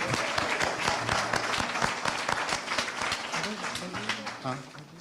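An audience at an awards reception applauds, dense clapping with a few louder claps, while people talk and cheer underneath before it fades slightly at the end.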